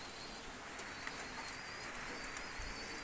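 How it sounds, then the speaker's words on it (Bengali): Omani Teddy pigeons coo softly in a quiet setting, faint, low repeated calls over a steady hiss, with no talking. "এক পেয়ার ওয়ান্টেডি কবুতর নিয়ে আসলাম"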